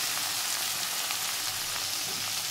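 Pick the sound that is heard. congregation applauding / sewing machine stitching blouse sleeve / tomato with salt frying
tomato with salt frying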